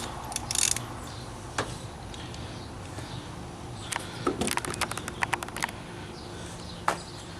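A ratchet with a 15/16 socket loosens the oil drain plug on a Pontiac G8 3.6 during an oil change, with scattered close clicks and a quick run of rapid ratcheting in the middle over a steady background hum.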